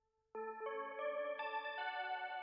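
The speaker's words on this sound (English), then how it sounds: "I'm pressing the buttons on my like MIDI pad right now." A synth melody played on a MIDI pad for a city pop remix: a sustained tone, then layered chord-like notes entering in quick steps that stack into a bright, wavering, chorus-tinged sound held to the end, played alone.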